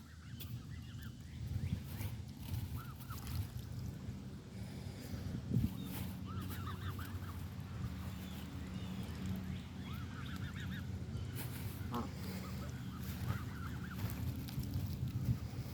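Canada geese honk in scattered, overlapping calls while being fed, moderately close over a steady low rumble of background noise, with no talking.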